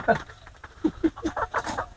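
Dominant CZ laying hens in a flock give short, separate clucks, close and moderately loud, while a person talks over them.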